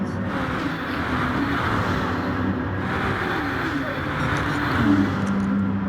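Pack of five race cars battling around Mount Panorama in a racing video game, a steady droning engine hum with shifting pitch as cars jostle, under a commentator's voice.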